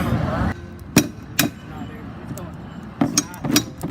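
A crowbar clinking against a 3-ton milling machine as it is shifted, several sharp metallic knocks in two short clusters, with voices talking nearby.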